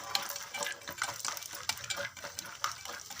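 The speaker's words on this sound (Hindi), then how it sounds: "मूंगफली को हल्का सा पहले भून लेते हैं," Peanuts are lightly roasted in a pan and stirred, giving light scraping and tapping of a spoon against metal with small rattling clicks of the nuts, close and without talk.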